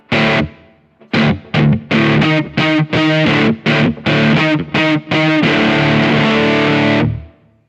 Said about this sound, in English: next one, natural reverb, just for some, yeah, room sound.